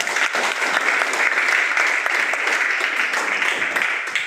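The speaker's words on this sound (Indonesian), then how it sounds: "Beri tepuk tangan." Audience applause at a sharing event with guests from the Son of Heaven team at STT Tri Bakti, a steady, dense wash of clapping that stays loud and even throughout without pause.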